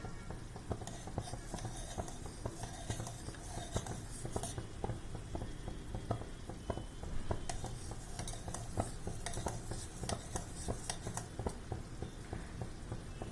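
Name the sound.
stirring milk in a pan for saffron almond milk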